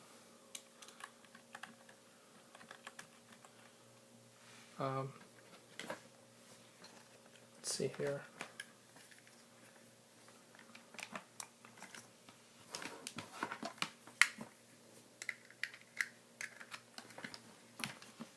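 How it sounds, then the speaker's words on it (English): Keyboard typing at a computer keyboard plugged into a Raspberry Pi by USB during first bootup, with bursts of steady close key clatter and pauses, and a brief spoken remark near the start. "once that's plugged in, I can use my keyboard"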